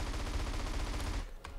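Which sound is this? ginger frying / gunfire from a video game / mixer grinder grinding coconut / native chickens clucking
gunfire from a video game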